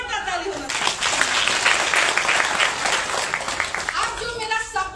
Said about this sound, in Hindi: जोर का ताली होना चाहिए